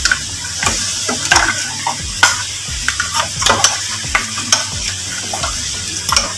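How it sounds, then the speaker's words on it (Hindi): Beef trotters sizzle in hot oil with yogurt added, a steady frying crackle broken by repeated stirring scrapes and clinks of a spoon against the pot, close and fairly loud with no talking. "पाई सारे मैंने ऑयल के अंदर शामिल कर दिए। अभी हम इसमें दही शामिल करेंगे।"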